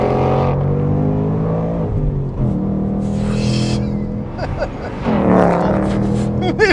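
A Honda Civic Type R engine revs and accelerates hard with a buzzing tone, climbing through the gears with shifts in between. It sounds close and loud inside the car.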